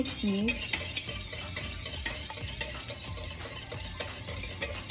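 Bibingka batter is stirred briskly in a bowl, giving continuous close scraping and swishing with small clinks of the utensil against the sides and no voices.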